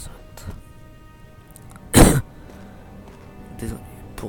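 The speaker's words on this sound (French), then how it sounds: "Désolé pour la toux que je viens de faire." A person playing the horror game Amnesia: The Dark Descent gives one sudden, loud, close cough with some throat clearing around the middle of an otherwise quiet stretch, with faint breathy sounds before and after.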